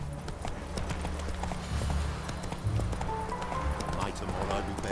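A horse gallops in The Witcher 3 with rhythmic clip-clop hoofbeats close by, alongside game ambience and a brief voice.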